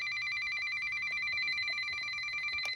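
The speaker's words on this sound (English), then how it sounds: "This thing sounds like a phone when it goes off. For the warning tone, at least." An Emerson CKW 2000 weather radio sounds its warning tone, a continuous, phone-like electronic ring built from several steady pitched tones, loud and unbroken, with faint rattling beneath it before it cuts off.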